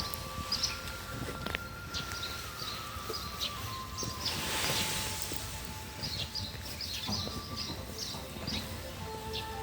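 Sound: birds singing outdoors

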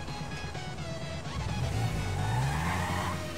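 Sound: Honda motorcycle riding in the video game GTA 5

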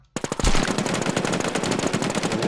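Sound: gunfire from a video game

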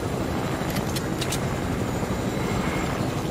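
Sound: helicopter in a video game

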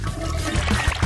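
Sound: cooking oil poured into a pot

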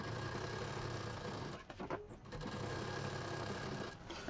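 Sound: sewing machine stitching a party mobile purse

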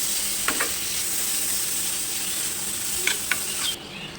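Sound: stirring chicken with spices in a pan

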